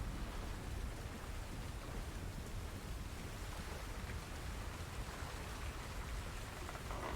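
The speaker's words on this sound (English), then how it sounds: "The rain seems to be calming now. It's starting to kind of slow." Steady rain falls and patters on surfaces outside a window at night, a dense even wash of drops with no voices, holding a constant moderate level throughout.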